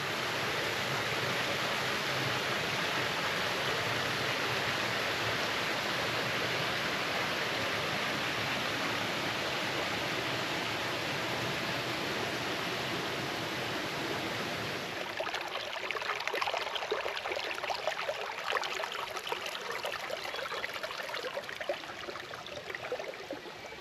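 Running water from a stream near waterfalls along a forest trail at Dutchman Lake, a steady broadband rush that holds evenly, then shifts to a brighter, splashier flow partway through, alone with no voices.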